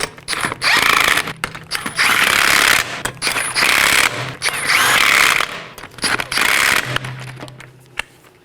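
Five 19mm lug nuts on a 2018-2024 Chevrolet Equinox are snugged down in a crisscross pattern, heard as loud, close bursts of a powered ratchet whirring, each lasting about a second, separated by short pauses.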